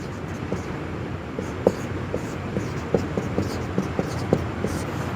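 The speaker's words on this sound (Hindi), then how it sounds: "हिंदी में भी लिख दे रहे हैं हम" Marker or chalk writing on a classroom board gives soft, irregular taps and short scratchy strokes over a low background hum. There is no speech.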